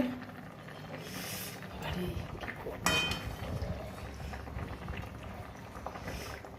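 Radishes boiling in a covered pot, a steady bubbling simmer with a brief clatter near the middle, heard close and moderately loud throughout.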